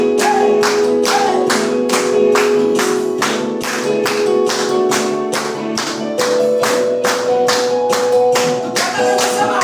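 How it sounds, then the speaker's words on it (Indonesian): A worship congregation at a school semester-closing service claps in a steady, even beat, about two claps a second, ringing out loud and close over a sustained song accompaniment. "Ya, tepuk tangan"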